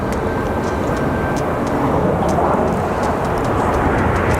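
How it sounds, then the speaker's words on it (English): A Boeing 767 on final approach to Raleigh-Durham airport sends a steady, broad engine rumble from a distance, with faint high clicks over the drone and no voices. "We got our 767 on final."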